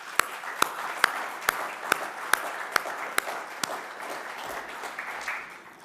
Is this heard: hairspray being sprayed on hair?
no